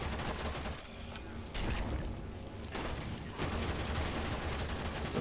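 Dense gunfire in the sci-fi shooter Warframe, with a steady burst of rapid shots and impacts running the whole time. A few short gaps break it up, and there's little or no talk.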